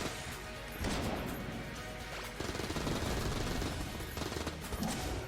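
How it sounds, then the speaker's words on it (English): Rapid gunfire from the Klobb, a weapon in the video game Enter the Gungeon, crackles in dense bursts with brief lulls, loud and continuous across the stretch of play. "You empty your gun, your klobb, you reload, and then you have perfect accuracy and you do a shit ton of damage."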